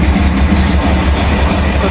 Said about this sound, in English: There's the engine running. It puts a pretty good sound to it.